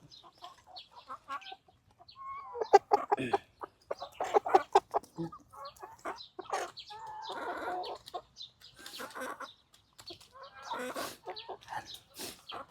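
Several chickens cluck and squawk close by in irregular bursts, with a quiet outdoor background.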